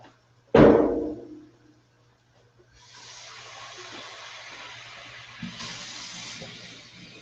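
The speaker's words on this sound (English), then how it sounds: "Add a little water to it." Water poured into a hot pan of caramelizing onions: a sharp knock of the pan at first, then a broad steady sizzle and hiss that swells again briefly before settling, close and moderately loud with no talk.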